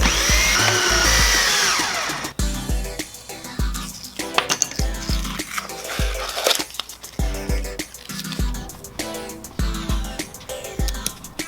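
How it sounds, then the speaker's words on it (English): A power drill driving threaded screws whirs in repeated short bursts, close up, while speakers are installed in Ford F-150 front doors, with clunks and rattles of hardware between runs. "We're going to use a drill bit that has threads on it so that they'll thread in place."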